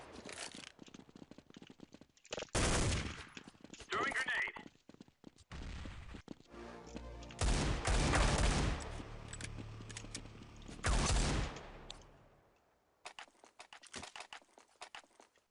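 Rapid gunfire bursts from a Counter-Strike 1.6 CS:GO mod match fire in several loud clusters of shots, with quieter gaps and game noise between them and a fading tail near the end.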